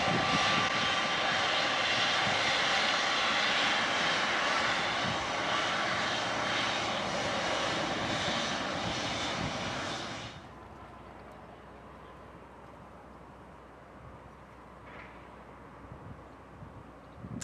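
A Lufthansa airliner roars loudly and close at Chicago O'Hare airport, a broad sustained engine rush that cuts off sharply about two thirds through, leaving quiet background hum.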